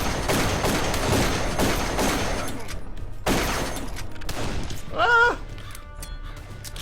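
Gunfire from the video game Darkest of Days fills the first half as a dense, continuous barrage. It thins after a loud crack, and a man yelps near the end.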